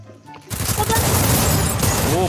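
Trogon gun fire in a shooting video game: after half a second of near quiet, a loud, dense burst of rapid shots runs without a break to the end.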